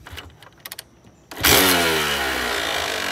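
A few sputtering cranks, then an old motorcycle engine catches and roars to life, settling into a loud, steady idle with a throbbing low rumble.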